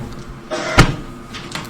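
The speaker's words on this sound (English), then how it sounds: "Slams Bible." A Bible is slammed down on a table in a courtroom, making a single sharp thud with quieter rustling before and after.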